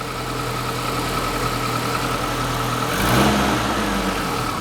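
The engine of a tiny mini campervan runs steadily close by with a constant low rumble, then swells briefly in a short rev before settling back.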